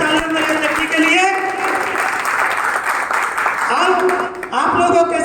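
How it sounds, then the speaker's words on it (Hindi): A crowd at a Holi gathering organized by a temple priests' group claps loudly and steadily, the applause mixed with voices and musical tones throughout. "एक बार सभी जोरदार तालियां मेरे व्यक्ति के लिए"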